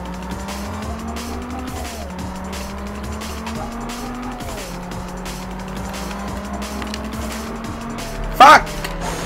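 Tires squeal repeatedly as a car drifts in Test Drive Unlimited, with long sliding squeals over a steady engine drone and one sharp loud burst near the end.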